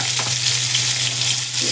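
Chicken keema balls crackle and spit in hot oil in a pan, a dense steady sizzle with a constant low hum underneath, close and loud throughout with no talking.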